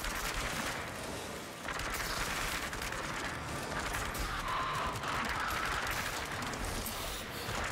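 Dense, continuous gunfire from the VR shooter Switchback Horde Mode, a steady wall of rapid shots running the whole stretch with no let-up.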